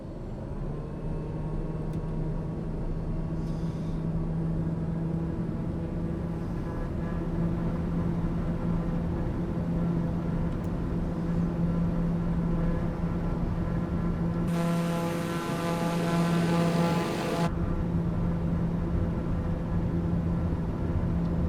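A steady, loud engine roar and broad wind-like rush build in a flight simulator game as an airliner takes off, with a sustained droning hum and a brief brighter noise burst near the end.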